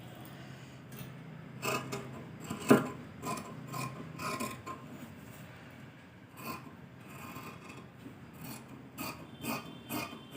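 Scissors cutting blouse sleeve fabric, a string of soft, irregular crunching snips and rubbing of cloth heard close up, with no talk.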